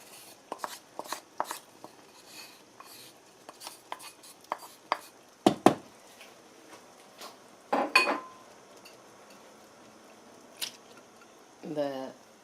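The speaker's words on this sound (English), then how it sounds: "I'm going to add the garlic" Garlic tips into a pan of vegetables for tapas that have been cooking about 20 minutes, with a run of light metal clinks and scrapes of utensils against cookware, a couple of sharper knocks and brief soft squelches in a quiet kitchen.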